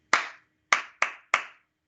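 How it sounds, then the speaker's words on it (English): Hands clap a ta ti ti ta ostinato in a music lesson, four sharp, close claps alone in a quiet room: one, a pause, then two quick ones and a final clap. "Can you clap that with me?"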